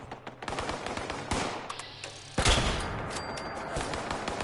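Turrets in the game Fallout 76 fire a dense stream of rapid shots. A heavy blast lands midway, followed by a rumbling tail and scattered further shots.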